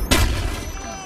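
A frag grenade goes off in Call of Duty: Black Ops on the Wii, a sudden sharp blast followed by a rumbling low decay with game voices talking underneath.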